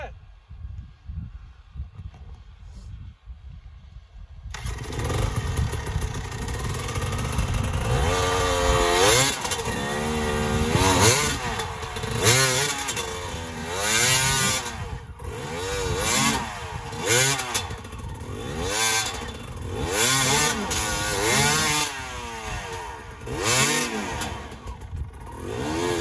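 A dirt bike engine on a trail idles, then roars up and revs hard in repeated surges, loud and close throughout, with a voice faintly underneath.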